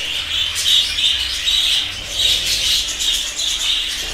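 Budgerigar chicks in a nest box give a steady stream of thin, high cheeping calls that rise and fall in short waves, fairly close and with no talking.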